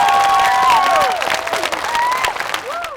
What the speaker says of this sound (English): Could you clap if you love your teacher